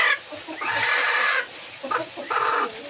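A chicken clucks close by in a few loud, raspy bursts with short pauses between them, and no one speaks.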